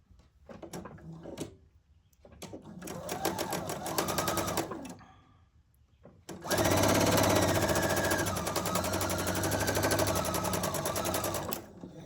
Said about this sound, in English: align the bottom, and then stitch our 1/4 inch seam